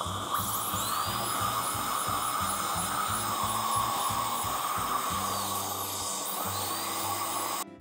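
High-pitched dental drill whining steadily while shaving down teeth for ceramic restorations, with a pulsing low suction hum beneath it and a faint upper whistle that rises and falls.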